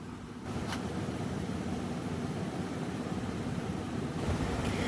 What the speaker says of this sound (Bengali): সামনে দাঁড়িয়ে এই নীল জলের ঢেউয়ের একটা অপরূপ সৌন্দর্য আপনাদের কাছে যতটা পারছি তুলে ধরার চেষ্টা করছি।